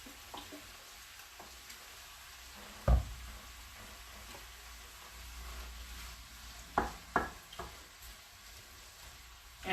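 Vegetables stir-frying with teriyaki sauce give a soft, steady sizzle in a pan, broken by a few sharp clatters of utensils against the pan.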